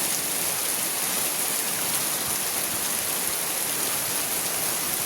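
Steady rain falls in an even, hissing wash of drops, moderately quiet and unbroken, with no voices.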